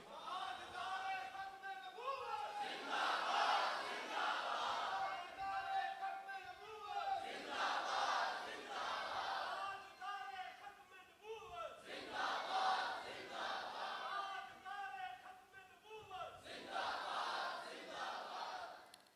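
A large crowd at a religious gathering chants the slogan "Zindabad" in loud, rhythmic, repeated bursts, each swell rising and falling in a steady call-and-response pattern.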